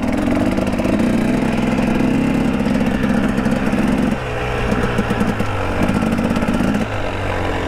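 A Husqvarna TX300 dirt bike engine on a rocky trail, a loud, steady two-stroke drone with rhythmic throttle variations and brief dips in pitch, close to the rider.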